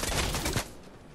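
Sniper fire in a multiplayer shooter game: a loud burst of gunshots crackles for about half a second, then cuts off and leaves a quieter tail of ambient noise.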